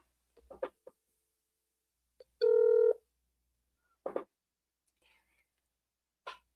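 A WhatsApp call dials out on a mobile phone, giving one short, loud, steady electronic tone lasting about half a second. Faint soft clicks and breathy sounds come before and after it in a quiet room.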